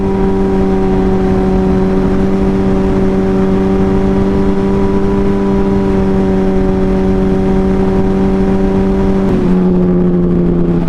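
A car fitted with an aftermarket exhaust holds a loud, steady engine drone with a strong low hum, then the pitch drops sharply near the end as the revs fall off.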